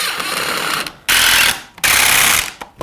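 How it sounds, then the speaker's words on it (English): A power drill drives screws into a glued wooden joint, whirring loudly in three bursts with brief pauses between, close up and with no talk. "I'll go ahead and put some screws in."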